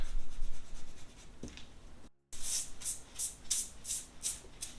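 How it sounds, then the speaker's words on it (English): An eraser rubs out pencil lines on paper while drawing a TIE fighter, giving a series of quick, rhythmic, close scrubbing strokes after a brief silence, with no talking. "I'm going to use my eraser and just erase all the lines I didn't want"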